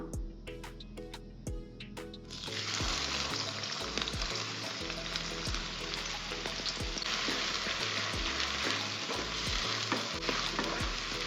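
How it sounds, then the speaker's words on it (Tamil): Four large onions, cut medium, dropped into hot groundnut oil for a mushroom pepper masala: a sudden loud sizzle erupts and holds steady, with spatula knocks and stirring clicks throughout, and no talking. "இப்போது எண்ணெய் நல்லா சூடாயிருச்சு நாலு பெரிய வெங்காயம் கட் பண்ணி வச்சுருக்கேன் மீடியம் சைஸில் இந்த வெங்காயத்தை எண்ணெயில் சேர்த்துக்கலாம்"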